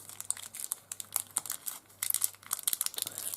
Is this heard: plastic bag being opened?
yes